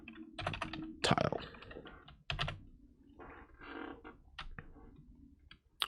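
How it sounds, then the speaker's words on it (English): Keys clack on a computer keyboard in uneven clusters of taps, some sharp and loud, others softer, with brief pauses between bursts and no voices. "I'm just going to type versatile"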